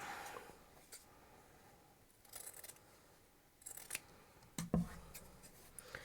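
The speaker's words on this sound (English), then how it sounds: "I'm actually just going to use the scissors for this one also." Quiet snipping of scissors through fabric, a few separate cuts spaced over several seconds with soft rustling between them.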